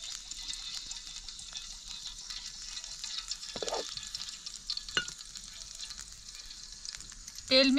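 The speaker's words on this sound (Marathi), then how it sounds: "आपण ह्या कढईत लगेच तेल टाकू." Oil hisses and sizzles steadily in a hot kadhai as frying begins, a continuous fizzing texture with a couple of soft clinks from stirring and a sharper spatter at the end.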